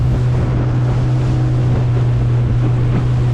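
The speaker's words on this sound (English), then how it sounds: "I'm going straight into the wind at the moment." Strong wind buffets a boat heading straight into it on the Ord River, a loud, steady roar of microphone wind noise over low engine hum and choppy water, with no voices.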